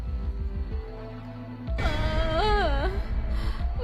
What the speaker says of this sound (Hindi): तभी उन्हें किसी के रोने की आवाज